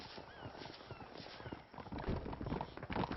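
Horses' hooves clip-clop in Red Dead Redemption, a steady run of hoofbeats with a brief lull and then louder, closer steps, faint ambient noise underneath.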